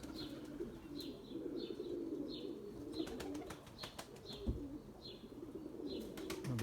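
Pigeons fly overhead with soft wing flaps and repeated short, high chirping calls over a steady outdoor rumble, moderately distant and faint, with no talk.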